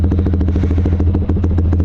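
A Yamaha R15 motorcycle engine idles while warming up, a close, steady rapid clattering thrum with an even pulse running for the whole two seconds and no talking over it.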